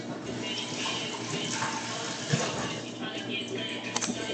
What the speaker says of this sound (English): I will stop when the water's running.